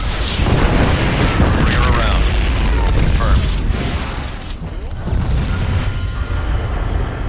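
Heavy booming blasts from a Yamato cannon in StarCraft 2, loud and sustained with rumbling low-end explosions and bursts layered under a game-battle din that continues throughout.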